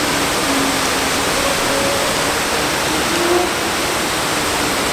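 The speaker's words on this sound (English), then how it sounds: "I did not know there was a waterfall here." A waterfall roars as a loud, constant broadband rush of falling water, steady from start to finish with no voices over it.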